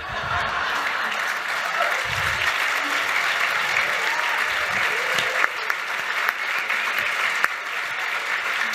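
A debate audience applauds in a hall, steady broadband clapping from a large crowd lasting throughout, with a few brief louder claps standing out near the end.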